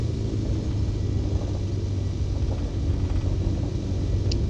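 Steady, loud engine drone of a Piper PA-28 Warrior light aircraft in the X-Plane 11 flight simulator, a continuous low rumble that holds level throughout with no talk.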